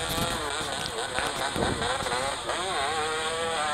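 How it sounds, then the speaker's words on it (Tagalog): A motorcycle engine idles and revs in short bursts, steady and fairly close, with voices talking over it. "pinapainit na yung makina"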